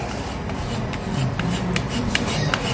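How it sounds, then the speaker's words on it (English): Food being grated by hand for lasagna, a steady close rubbing rasp with faint repeated scraping strokes, no talking. "what I'm going to do now is just grate this right into here"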